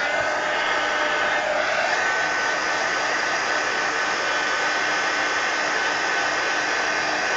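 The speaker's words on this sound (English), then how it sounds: "Let me hit this with the heat gun." Heat gun blowing over a mixed-media altered book: a steady, close airy roar with a hiss, unbroken and alone for the whole stretch.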